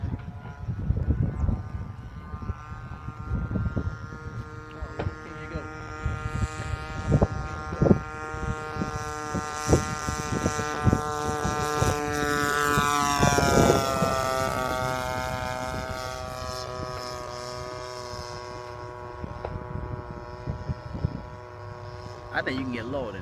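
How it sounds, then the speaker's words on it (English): Seagull Yak 52 radio-controlled model airplane, 60 size, with a DLE 20 RA petrol engine, its engine droning and buzzing steadily close by, swelling in pitch as it revs, while people talk over it. "So this is a Yak 52 made by Siegel. It's a 60 size. It's got a DLE 20 RA in it."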